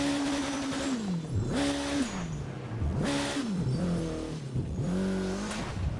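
A car in The Crew 2 racing game drives across snow, its engine revving and dropping through repeated gear changes over a steady rumble and tire noise, loud and continuous with no voices.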